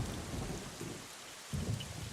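Steady rain falls with deep, rolling thunder in the Legend of Zelda: Wind Waker HD video game, a continuous wash of rainfall with low rumbles swelling near the start and again toward the end, and no voices.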